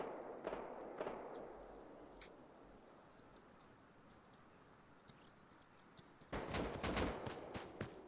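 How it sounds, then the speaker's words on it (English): Distant gunfire from a building window in Rust, a few faint scattered shots early, then a louder crackling burst of rapid fire near the end. "They're actually shooting out of their windows."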